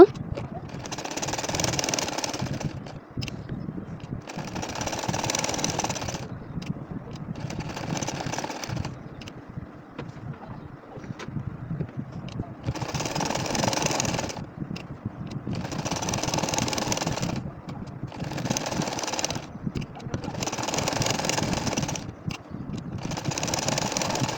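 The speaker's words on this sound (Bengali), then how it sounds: "এখন আবারও আমি আরও একটা লাইন সেলাই করে নেব" A domestic sewing machine stitches a line across a nakshi kantha quilt, running in repeated bursts of a few seconds each with short pauses between, a steady close mechanical whirr over a low motor hum.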